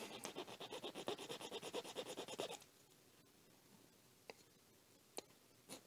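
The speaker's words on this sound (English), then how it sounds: "This files down very easily. It's almost like filing down a little piece of wire." A hand file rasps in quick, even back-and-forth strokes on a small part of a 1:6 scale BB-8 statue, close and crisp, then stops, leaving a few isolated ticks and taps.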